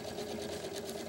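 A sewing machine runs steadily on fabric and foam padding for an angel-shaped pillow, stitching in reverse. The motor hums evenly and close for about a second, with no pause.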